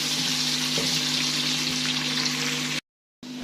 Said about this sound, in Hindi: प्याज डालने लगे हैं। तो सुनहरा होने तक इसको फ्राई करेंगे प्याज को।